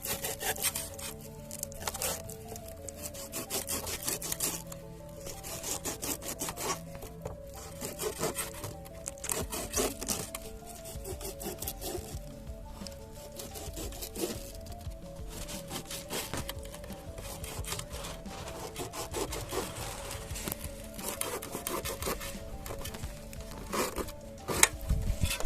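A knife scoring slits into both sides of a whole fish being prepared for a charcoal grill, giving a steady stream of close scraping and rubbing cuts that runs continuously with no pauses or talk.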